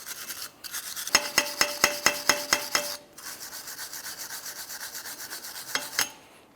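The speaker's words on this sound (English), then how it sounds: "You can use a wire brush." A wire brush scrubs the hub mating surface on a Jeep Grand Cherokee, quiet rapid rasping strokes in quick bursts, with a brief pause midway before the scrubbing resumes.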